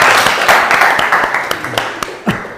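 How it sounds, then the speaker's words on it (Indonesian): A classroom group claps for a presenting student team, scattered hand claps in an uneven burst that thins out over a couple of seconds, sharp individual smacks standing out near the end. "tepuk tangan untuk kelompok 3"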